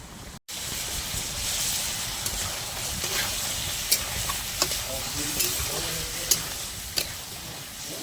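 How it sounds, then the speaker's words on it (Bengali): Chicken being stirred in a hot pan of oil with turmeric and salt, a steady loud sizzle throughout with a few sharp scraping knocks of the spoon against the pan. "চিকেনটা একটু নাড়িয়ে নেবো ভালো করে।"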